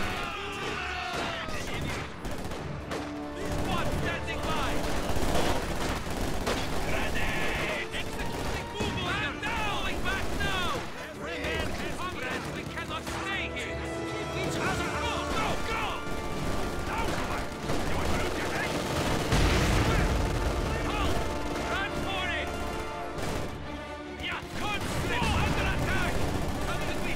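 Dense gunfire and battle noise rattle through a Company of Heroes 2 fight, with bursts of machine-gun fire, single shots and heavy blasts layered continuously, and soldier voices shouting over the combat.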